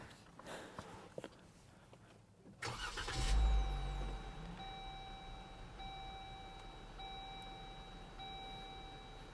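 A Jeep JL engine cranks and catches with a loud low rumble, then settles into a quieter idle while steady electronic tones sound in the cabin.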